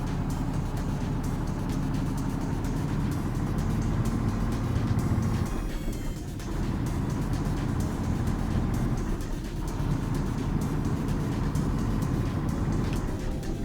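A DAF NTT truck's diesel engine in Euro Truck Simulator 2 drones steadily and loudly throughout, a low heavy rumble with two brief dips where the revs drop, as for gear changes.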